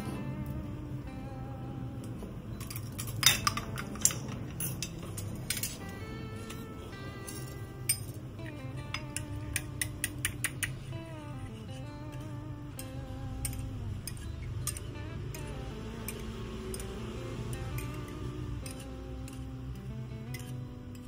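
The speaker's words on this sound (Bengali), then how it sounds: "আর একটা ডিমকে একটু ফেটিয়ে নিয়ে" An egg is whisked in a bowl while making South Indian chicken rasam, with clinking taps and quick rhythmic scraping of utensil against bowl scattered through, partly under background sound.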